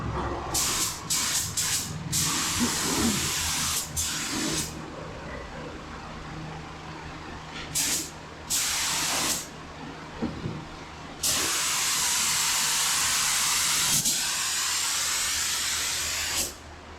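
A spray gun hisses clear coat onto a 1959 Apache, first in short rapid bursts, then in longer sustained passes broken by brief pauses, loud and close.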